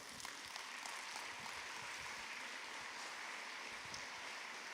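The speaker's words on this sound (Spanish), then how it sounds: "denle una ofrenda de palmas al Señor" A church congregation applauding together, a soft, steady wash of clapping that holds evenly throughout at a distance, with no voices on top.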